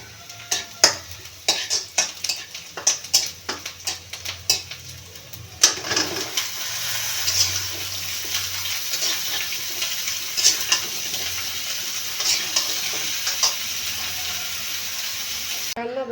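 Bottle gourd with tengra fish cooks in a pot, with clattering stirs and splashy liquid sounds at first, then settling into a steady simmering sizzle.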